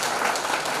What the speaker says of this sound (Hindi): एक बार जोरदार तालियां भाभी के लिए।